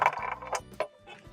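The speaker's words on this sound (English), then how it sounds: "we'll support the assembly with our hand while we unscrew the front screws" Screws being backed out of a Hotpoint refrigerator's control assembly, a short run of faint mechanical clicks and ratcheting taps close by, with no talking.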